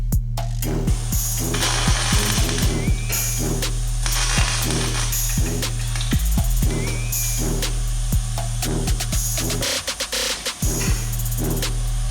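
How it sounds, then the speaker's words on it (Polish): Ratchet wrench working loose a stubborn bolt on an Audi 4.2 V8 FSI engine, with loud, close, repeated clicking bursts in quick runs and short pauses between strokes. "zniszczę sobie narzędzie, ale odkręcę chociaż tą śrubę"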